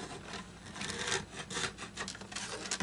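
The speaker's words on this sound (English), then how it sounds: "I'm gonna need to clean the edges of the binding, bottom parts. Scraping the old glue off there." Scraping old glue off the binding edges of a Martin D-28 acoustic guitar, close continuous rasping strokes in an uneven rhythm, with no voices.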